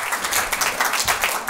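An audience at a Roadshow 2023 event in Rzeszów claps steadily as a speaker walks onto the stage. The dense applause is loud and close and fills the whole short stretch with no talk.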